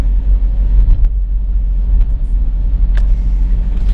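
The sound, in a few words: car driving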